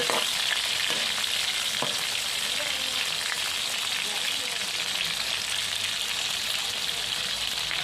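Pieces of pangasius fish fry in hot oil in a pan, giving a loud, dense, continuous sizzle with a few scraping knocks as they are turned.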